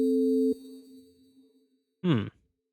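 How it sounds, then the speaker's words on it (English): A synthesized sine-wave tone from a synth patch sounds steady and pure for about half a second, then a quieter tail fades out, followed by a short, brighter synth blip near the end. "Let's just make it a sine wave."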